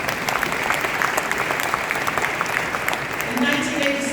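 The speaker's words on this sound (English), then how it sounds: "You can clap like that." Audience at a Waco Habitat for Humanity harvest dinner breaks into sustained applause, a dense steady patter of many clapping hands filling the room, with some voices mixed underneath.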